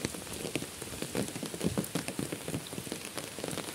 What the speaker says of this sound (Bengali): অনেক ঝড় বৃষ্টি হইতেছে আমাদের নোয়াখালীতে